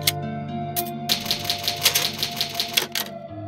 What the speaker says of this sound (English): Oh, God, I miss that typewriter noise so much.